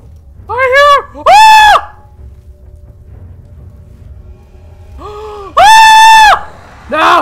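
A monster in the horror video game Amnesia: The Dark Descent lets out loud, pitched, wavering screams in several short bursts, with quiet gaps between them.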